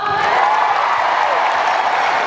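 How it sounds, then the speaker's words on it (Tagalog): A crowd at a business seminar bursts into dense, loud applause mixed with a few cheers, a continuous wash of clapping heard alone. "Sa mga nagka-cheque na ng 450, pumalakpak!"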